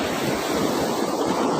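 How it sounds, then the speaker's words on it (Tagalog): Large waves crash against the foot of a mountain during typhoon-season surf, a loud, continuous roar of surging water mixed with wind noise, close and steady throughout. "Diyan po talaga humahampas ang alon."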